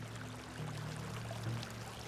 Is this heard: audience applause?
no